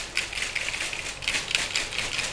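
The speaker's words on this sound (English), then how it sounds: "You can hear that crunchiness on the outside of these chips." Crunchy fried chips are shaken in a metal fryer basket, giving a dense, close rattling clatter of crisp pieces knocking together in quick irregular bursts.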